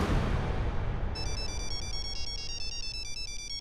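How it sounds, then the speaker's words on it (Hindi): A mobile phone ringtone starts about a second in and keeps chiming a steady repeating electronic melody, loud over a dense low background hum, with no talk. "हमारे पति का ही फोन है"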